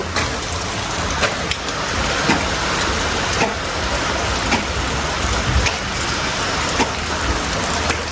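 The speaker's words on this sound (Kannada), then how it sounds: "ಮಳೆ ಬರಾಕತ್ತು." Steady, heavy rain pours down close by with scattered louder drips hitting a surface. The downpour runs unbroken and dense throughout, and no one speaks.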